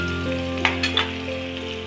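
Onion frying until golden brown in a pan for a simple Maharashtrian bhaji, a steady close sizzle with a few brief clinks or scrapes midway, no talking.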